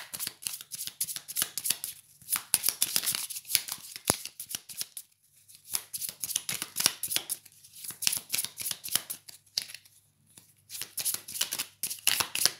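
Tarot cards are shuffled close up in rapid, papery riffling bursts separated by short pauses, with no talking.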